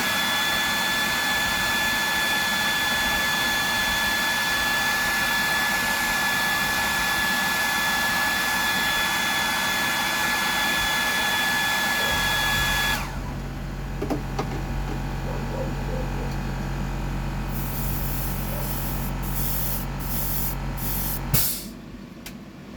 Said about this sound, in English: give that a dry.